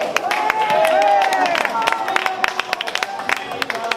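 An audience at a political rally in Libourne applauds, a busy spread of claps and crowd murmur with voices mixed in, the clapping turning sharper and more scattered toward the end.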